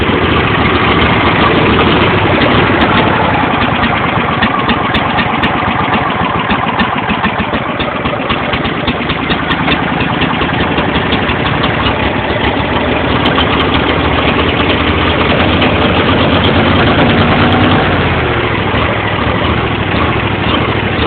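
A lawn mower engine idles steadily and loudly at close range for a long stretch, its governor hunting so the running note surges and dips a little without ever dying away.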